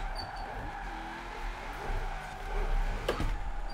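A Mazda RX-7 drifting on the handbrake in Forza Horizon 4: steady engine drone with a rising scrub of tire skid that swells toward the end, loud and close.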